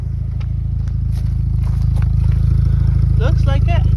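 A car engine with a freshly repaired exhaust idles steadily, a loud, close, even low rumble that runs throughout while people speak over it near the end.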